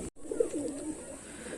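A slender-bodied pigeon gives a soft, close coo in a short rolling phrase, heard alone after a brief click at the start.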